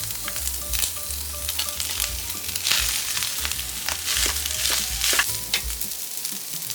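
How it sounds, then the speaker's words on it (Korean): Fried rice with bacon, garlic and egg-yolk-coated rice stir-frying in a pan, a close, continuous sizzle with repeated scraping stirs and spatula knocks, no one talking. "마늘도 1스푼 넣고 볶아주다가 노른자 섞어준 밥을 넣고 섞어줍니다."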